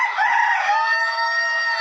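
A chicken in a poultry farm shed, where hens sit to lay eggs, gives one loud, close, sustained call that is drawn out and steady for nearly two seconds, with no other sound alongside.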